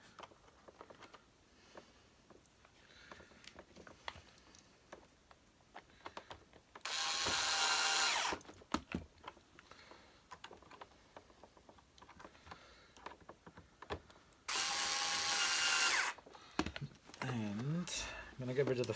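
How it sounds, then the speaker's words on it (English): A screwdriver drives screws back into a Hoover Turbopower Junior U1100 vacuum cleaner. It gives two loud, sustained whirring bursts of about a second each amid quieter clicks and handling noises, with a voice talking close by. "I'm going to put these screws back in."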